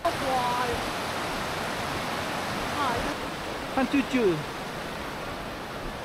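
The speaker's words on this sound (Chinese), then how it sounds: "这瀑布也太震撼了。" Steady roaring rush of a large waterfall at Pearl Shoal, Jiuzhaigou, China, fills the scene, with a brief voice speaking over it and a few faint bird chirps.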